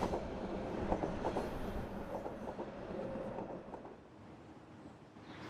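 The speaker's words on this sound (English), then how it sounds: "Over that wall is a subway and the expressway." A steady low rumble of a subway train rolling past at a distance behind a sound barrier wall, muffled and continuous, with faint rhythmic clatter that slowly fades.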